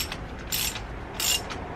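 Ratcheting clicks from a hand tool tightening the axle nut on a dirt bike wheel during a flat tire change, two short bursts of rapid close-up clicking about half a second apart over quiet background.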